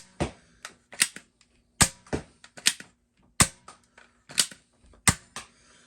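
Nerf Elite 2.0 Prospector Wild Edition dart blaster firing: a string of sharp, close clicking snaps with a brief whoosh, about a dozen shots in an uneven rhythm, loud and alone.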